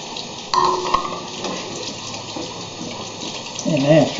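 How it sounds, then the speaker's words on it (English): Water poured into a pot of simmering homemade chili on low heat, a soft running splash over a steady background hiss, swelling louder near the end. "I'm going to add just a little more water."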